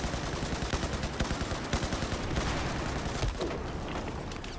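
Rapid repeated blasts from a USAS-12 automatic shotgun in a video game, a dense fast rhythm of loud shots that fades toward the end.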